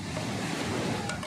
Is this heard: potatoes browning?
no